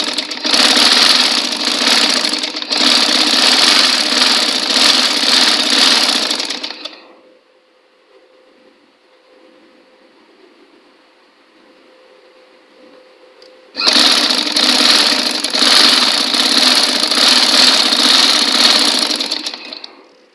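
An electric sewing machine stitches a fabric strap for a Holy Quran cover, running in a loud, steady, close whirring burst for about seven seconds, falling to a faint hum, then starting again for another long run.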